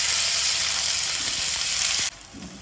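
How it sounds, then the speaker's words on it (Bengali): Chopped onions hit hot oil in a pan still holding the oil that fried taro, giving a loud, steady, hissing sizzle for about two seconds before it abruptly drops to a softer crackle. "ওই তেলে আমি বেশ খানিকটা পেঁয়াজ কুচি দিচ্ছি"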